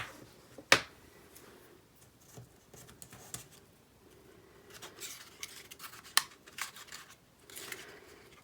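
Scissors snip the ends of paper or ribbon in a quiet craft setting, giving a few sharp, isolated close cuts separated by soft handling rustles.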